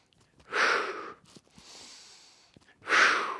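Controlled breathing demonstrated by one person: a strong, close exhalation, a longer softer airy breath, then another strong forceful exhale, alone without speech.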